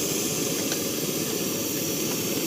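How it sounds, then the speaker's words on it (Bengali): A lit cooking stove gives off a steady, loud roaring hiss that holds at a constant level throughout, with no voices. "আমরা স্টোভটা জ্বালিয়ে নিয়েছি"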